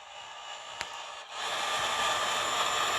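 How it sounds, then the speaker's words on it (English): A heat gun blows a steady, close, hissing rush of hot air to shrink heat shrink tubing over wires, starting with a click and a brief lull before the airflow builds and holds. "Take the heat gun."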